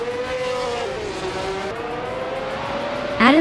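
Several race cars at the start of a race at Albi, with engines droning steadily and rising in pitch over a few seconds, then a louder closer surge of revving at the end; no talk.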